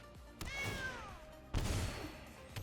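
A cat meows twice in the MTG Arena digital card game, a clear falling meow followed by a shorter second cry, alone with no talk.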